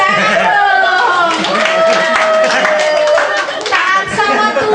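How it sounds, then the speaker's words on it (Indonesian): Members of a church congregation at a birthday thanksgiving service clap their hands in a dense, continuous patter, with voices and chatter mixed in throughout. "Tepuk tangan dong."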